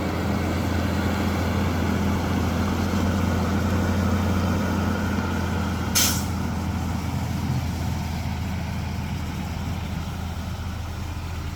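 An overloaded heavy truck's engine rumbles steadily in low gear, close by, and a single short hiss of air brakes cuts through midway.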